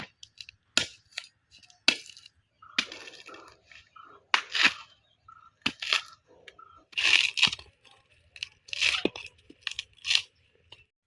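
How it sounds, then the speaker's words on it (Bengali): Husk being torn and peeled off a coconut by hand, a close series of about a dozen irregular crunching, ripping bursts separated by short pauses. "এখানে একটা নারকেল লিচি বা এটা খোসা ছাড়িয়ে নিব"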